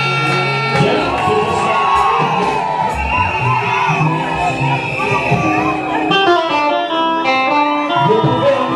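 Wedding guests in a church cheer and shout together in a loud, sustained crowd roar, with whoops and higher voices rising over organ or keyboard music.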